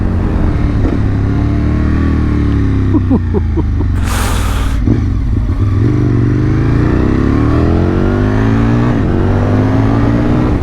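An Aprilia RSV Mille R motorcycle's 990 Rotax engine revs hard nearby, its pitch swooping up and down in repeated surges for several seconds, loud and unbroken.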